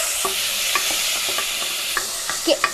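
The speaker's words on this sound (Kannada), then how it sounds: "ಈಗ ಇವನ್ನ ಫ್ರೈ ಮಾಡಬೇಕು ಜೊತೆಯಲ್ಲಿ ಈರುಳ್ಳಿ ಹಾಕಬೇಕು" Onions and cumin frying in a pan for bitter gourd palya, with a broadband sizzle under repeated scraping stir strokes close by and no talk.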